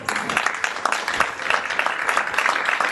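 Dense audience applause at a film premiere, a close and loud sustained roll of many hands clapping with no pause.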